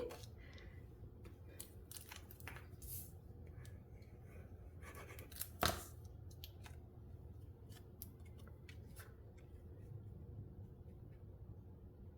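Scissors snip through a piece of thin patterned cardstock from a winter paper collection, a series of quiet, close cuts with one sharper snap midway, and no voices.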